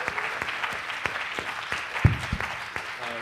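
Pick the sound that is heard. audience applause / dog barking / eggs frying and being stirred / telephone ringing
audience applause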